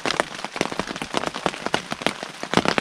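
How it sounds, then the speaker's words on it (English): Rain falls at Snake Point in the Boundary Waters wilderness. Dense, irregular pattering of drops strikes nearby surfaces continuously, with no voices. "It's good to have rain."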